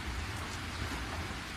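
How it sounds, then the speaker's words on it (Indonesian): Heavy rain pours at dusk in Air Sugihan, a steady, even hiss of downpour heard at a fairly soft level without any voices. "Saya bilang ini hari hujan,"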